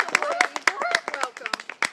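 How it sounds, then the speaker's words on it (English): An audience claps at an evening Big Night event at Arcadia Wildlife Sanctuary in Easthampton, Massachusetts, welcoming a contestant. Scattered, fairly close hand claps patter steadily throughout, mixed with overlapping voices talking. "Let's have a big round of applause."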